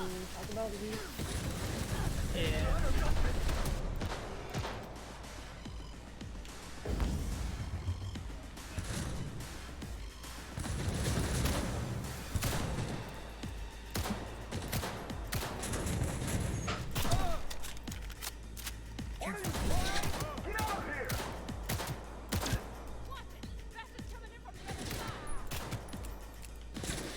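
Gunfire bursts from the Cyberpunk video game, dense rattling volleys with creaking mechanical clatter, loud and continuous, with people talking over the shooting throughout.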